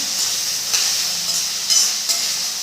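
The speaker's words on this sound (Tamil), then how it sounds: "வெங்காயம் நல்லா வதங்கணுங்க." Chopped onions sautéing in a pan for a home-style butter chicken, a steady bright sizzle running throughout with a few brief louder crackles, close and alone with no voices.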